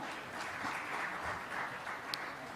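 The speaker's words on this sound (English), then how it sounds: "Can we have a huge round of applause?" Audience applause at a business conference keynote, a steady wash of many hands clapping throughout, fairly distant and moderate in level.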